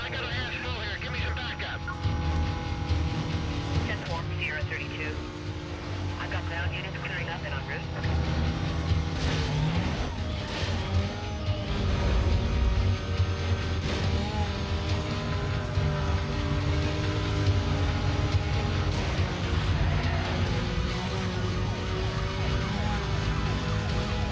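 Engines from cars racing in Need For Speed: Most Wanted Black Edition roar steadily throughout, with shifting pitch as vehicles overtake, blended with music and game sound; a siren-like wail rises over the mix.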